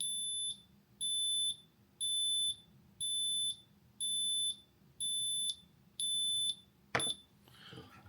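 A Bluetooth wallet tracker alarm beeping in about eight even half-second pulses, high-pitched and piercing, followed by a brief clatter.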